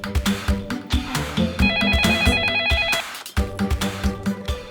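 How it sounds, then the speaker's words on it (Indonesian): A telephone rings with an incoming call, a steady repeating electronic ring tone sounding for a little over a second over louder background music. "Kevin gak nelpon, Mi, tapi ditelepon."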